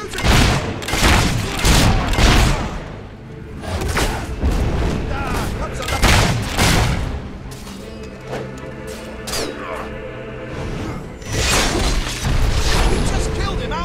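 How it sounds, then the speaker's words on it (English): Rapid volleys of gunfire and heavy booming blasts from a Fable 3 battle, loud and dense, with bursts coming and going over about fourteen seconds amid background game sounds and voices. "The enemy's shooting!"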